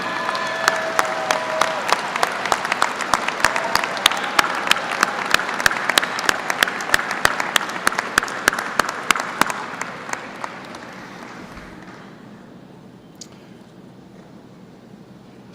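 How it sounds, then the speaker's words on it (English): Graduates and guests applauding at a University of Dayton commencement ceremony, a dense sustained round of clapping that tapers off into quiet hall ambience. "give them a rousing round of applause of thank you for all they've done to support you"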